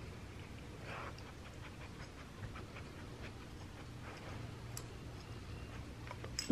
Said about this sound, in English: He has to sniff everything, I swear.